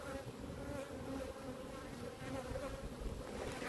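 Honeybees washboarding at the hive entrance make a dense, continuous buzzing drone, close and steady throughout, with no voices.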